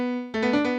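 Piano notes from the Windows multimedia MIDI synth: a single sustained tone followed by a brief cluster of brighter chord-like notes, clear and close with no voices.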